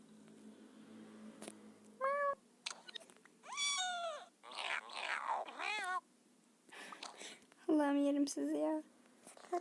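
Several cats meow one after another after being woken, high drawn-out cries coming in short bursts, close and fairly loud, with a soft voice murmuring between them in a quiet room.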